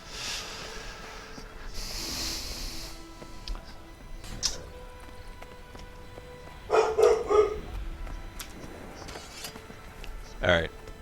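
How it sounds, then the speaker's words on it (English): A dog barks in a few short bursts around the middle and near the end of a home setting, fairly close, with household noise and a voice nearby. "I'm gonna go try to do something about the dog"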